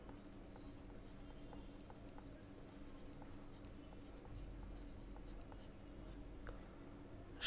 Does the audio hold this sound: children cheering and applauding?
no